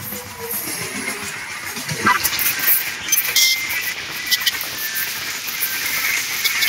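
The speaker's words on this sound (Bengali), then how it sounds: "এবার আমাদের সাথে দেখা হবে 12842 চেন্নাই শালিমার করমণ্ডল এক্সপ্রেস।" Chennai–Shalimar Coromandel Express 12842 runs through a railway station, a loud continuous rumble and hiss of rolling coaches with faint rhythmic rail clicks and a few high squeals.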